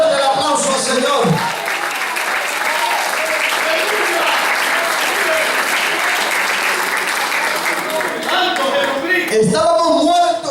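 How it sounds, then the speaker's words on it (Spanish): A church congregation applauds loudly and steadily for about eight seconds, a dense sustained clapping that fills the room, with a preacher's voice speaking over the start and again as the applause fades at the end. "Denle fuerte el aplauso al Señor."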